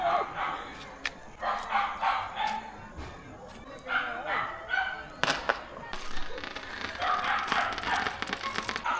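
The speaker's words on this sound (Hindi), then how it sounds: "भाई रियो भौंक रहा है कि मेरी वाली कहाँ है।" A dog barks and yips in short repeated bursts, with some whimpering, at a fairly close distance, mixed in with people talking during a Karva Chauth celebration.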